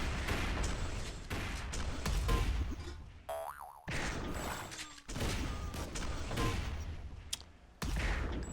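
Rapid machine gun fire in a 2v2 team deathmatch video game, bursts of clattering shots running almost continuously with short breaks, close and loud.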